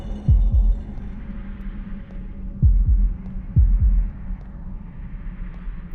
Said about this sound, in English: You can hear my heartbeat as well.